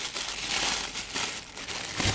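A plastic packet from a ColorWay refill kit for a colour HP ink cartridge is opened by hand, giving continuous close crinkling and rustling with a few sharper crackles.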